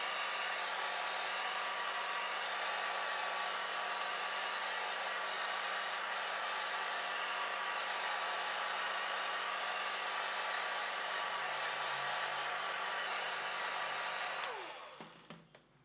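A hair dryer blowing steadily over alcohol ink, a continuous even whoosh that cuts off near the end.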